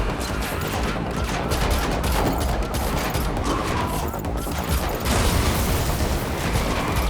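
Dense, continuous gunfire and explosive bursts from a car chase shootout in The Matrix Awakens, an Unreal Engine 5 game, holding at steady loudness with no pauses for the full stretch.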